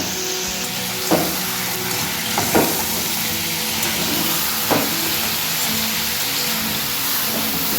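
Chicken fries in butter in a pan with a steady crackling sizzle, punctuated by several sharp spatula scrapes and knocks as it is stirred.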